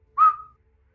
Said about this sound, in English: I whistle towards Corporal Spiral.